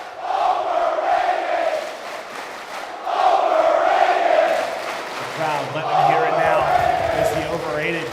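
Crowd at a Call of Duty League OpTic Major esports event roars and cheers in sustained waves, loud and broad, with a caster's voice talking over it.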